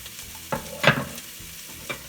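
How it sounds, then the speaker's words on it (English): Onions, celery and carrot sizzle in a pan under a steady frying hiss, broken by a few close scraping stirs of a utensil against the pan. "Every now and then just give it a little bit of a stir so that the different parts of the vegetables can cook"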